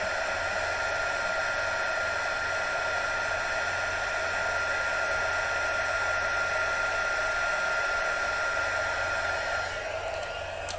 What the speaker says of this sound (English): So I'm just going to heat this with my heat gun.